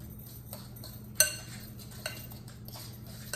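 A spoon mixes a filling of eight hard-boiled egg yolks for deviled eggs in a bowl, making quiet scraping with a few sharp clinks against the bowl at scattered moments.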